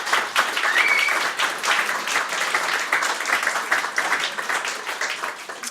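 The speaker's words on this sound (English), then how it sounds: "Please clap many times for Anita MacCallum." Steady applause from a sizable crowd, dense clapping sustained throughout with a brief whistle early on.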